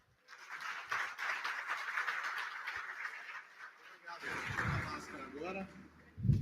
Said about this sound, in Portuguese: Recebam com uma salva de palmas ele, Luiz Candreva.